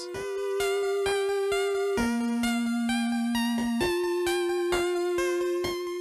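Undertale leitmotif from the end of a song plays as a simple bright video game melody, steady plucked notes over a sustained bass that steps down and then up, clear and alone.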